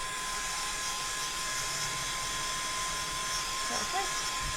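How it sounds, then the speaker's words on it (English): A heat gun blows steadily to dry paint on a laser-cut birdhouse, a constant close airy roar and hiss throughout, with faint talk under it. "it's never going to dry without the use of a heat gun"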